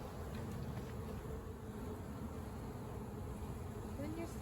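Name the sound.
honey bee swarm buzzing calmly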